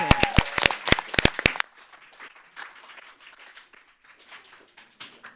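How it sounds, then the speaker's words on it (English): Clapping for a student team at a school competition event: sharp, sparse, close claps for about a second and a half, then a faint, scattered patter of hands fading in the room. "let's give a round of applause to the charter school of Bloomington"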